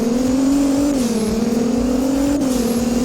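A 2017 Nissan GT-R engine in the video game Driving Empire drones steadily at high revs while accelerating, its pitch rising slightly and dipping as if shifting gears, loud and close with no talking.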